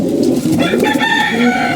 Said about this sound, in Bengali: এখানে অনেকগুলো কবুতর আছে